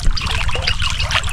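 Engine-pumped irrigation water gushing hard on a farm, a loud continuous rushing spray with a low rumble beneath, close and steady with no talk.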